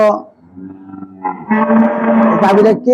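A high-quality dairy cow lets out a loud, close moo, a long low drawn-out bellow that rises and strains in pitch before ending.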